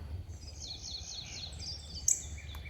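Birds chirp in a garden, a soft run of repeated high tweets that are fairly faint over a low steady background rumble, with one brief sharper call near the end.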